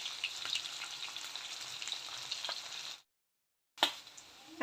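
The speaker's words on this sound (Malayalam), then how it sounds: "ലോ ഫ്ലെയിമിൽ വെച്ചിട്ട് അടച്ച് വെച്ച് നമുക്കൊന്ന് ഫ്രൈ ആക്കി എടുക്കാം" Kerala-style tilapia fish fries on a low flame in a covered pan with a steady, close crackling sizzle and scattered pops, cut off by a short silence before it briefly resumes.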